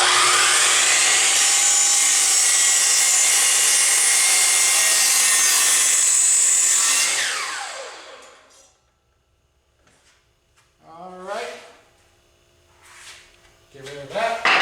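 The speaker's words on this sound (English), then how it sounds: "that'll be a good miter cut there" A power miter saw slices through a deck board, loud and close, whining steadily for about seven seconds before winding down to quiet, with short bursts of speech afterward.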